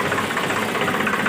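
A tractor engine idles close by, a steady rumbling drone with a rhythmic knocking pulse, running evenly for a moment with no talk.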